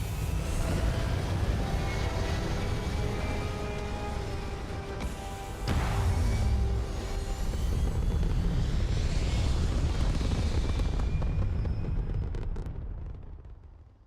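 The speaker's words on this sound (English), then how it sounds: "Prepare for liftoff." A spaceship lifts off in the video game Starfield with a heavy, continuous engine roar and rumble that holds steady at high loudness, surges slightly midway, then fades out at the end.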